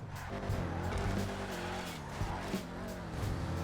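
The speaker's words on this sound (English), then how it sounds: "the exhaust still sounds awesome" Dominator GTX muscle car in GTA 5 Online, its exhaust rumbling loud and close alongside squealing, skidding tires, engine note rising and falling over game music, with a voice talking under it.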